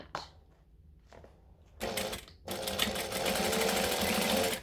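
A sewing machine stitches across a fabric pouch, starting in short bursts and then settling into a steady, loud, continuous run of rapid needle strokes, close up with no talking.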